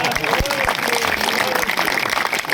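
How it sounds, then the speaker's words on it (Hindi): Audience at a Hindi poetry recital breaking into applause after a joke, a dense burst of clapping that fills the room, with a voice speaking faintly beneath it. "आपकी तालियां थोड़ी और बड़ी हो जाएगी"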